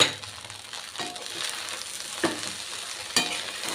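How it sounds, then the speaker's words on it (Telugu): Carrots stirred into a hot pan for chicken fried rice give a steady sizzle, with several sharp scrapes of the spatula at a slow, uneven pace. "1 కప్ ఆఫ్ క్యారెట్ ఇందులో యాడ్ చేసుకొని బాగా కలుపుకున్నామండి"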